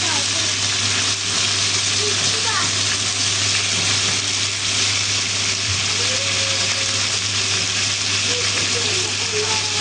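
Loud, continuous sizzling of food frying in a pan close up, a dense hiss over a low steady hum, with faint voices beneath.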